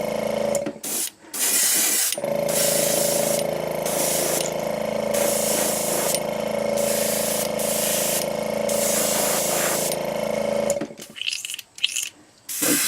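A paint spray gun hisses loudly and steadily while spraying a bass pattern on a fishing lure, one long continuous blast with brief stops near the start and end, close up and without talk.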